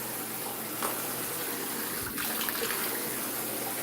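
A tap runs into a bathtub for a morning bath, a steady broad rushing gush with a brief knock partway through, close and alone.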